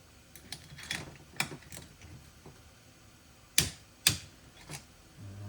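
A torque wrench checks the cylinder bolts on a Holzfforma G466 chainsaw engine, making light scattered ticks followed by two sharp, distinct clicks close by.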